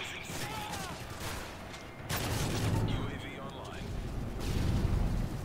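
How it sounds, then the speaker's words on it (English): Flashbang grenades going off in a Modern Warfare 3 multiplayer match, heard as heavy booming bursts around two and four and a half seconds amid a continuous din of gunfire and game noise, with players talking over it. "Is that a flashbang? Yep, it was a flashbang."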